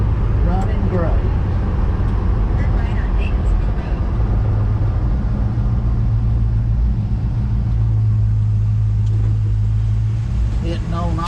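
Old Smoky, a hot rod, runs with a steady, low engine rumble nearby while people chat over it.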